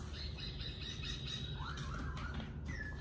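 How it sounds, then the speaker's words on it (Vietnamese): A laughingthrush (khướu) calls with a few squawking, slurred notes over steady broadband background noise, close and moderately loud. "Quay trở lại với chú khứu ở ngoài này."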